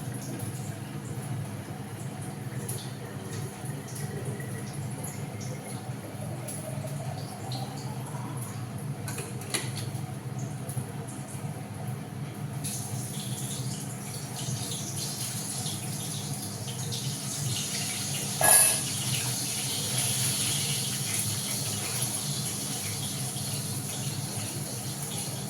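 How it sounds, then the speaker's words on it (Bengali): Water runs steadily from a kitchen tap into containers being filled, a continuous broadband rush lasting throughout, with the pitch of the filling shifting slightly and a single sharp knock partway through. "এখন এদিকে জলটা ভরে নিচ্ছি"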